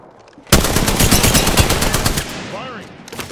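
Rapid automatic gunfire in Apex Legends erupts loudly and close, a sustained burst of closely spaced shots that tails off into a lighter patter with a brief whirring sweep near the end.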